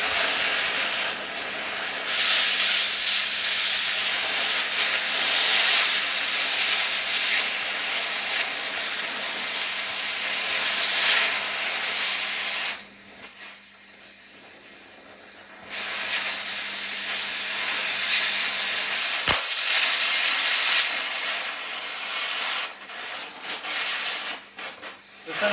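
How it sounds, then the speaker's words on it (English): An oxygen cutting torch blows away melted metal with a steady, loud, rushing hiss that cuts out briefly midway and then resumes. "heat it up till it starts melting, and then you can blow it away with the oxygen blow handle"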